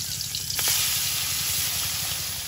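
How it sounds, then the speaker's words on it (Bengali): Steady, loud sizzling of fish frying in hot oil in a wok, continuous and close with a fine crackling texture and no talk. "বাবু কড়াইতে তেল দিয়ে দেবো"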